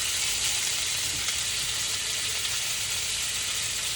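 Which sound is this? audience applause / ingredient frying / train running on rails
ingredient frying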